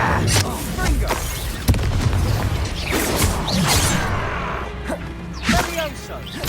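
Hogwarts Legacy PS4 Pro combat with Confringo fire spell blasts, repeated whooshing bursts and thumping impacts over a busy, layered battle mix, with a voice calling out spells.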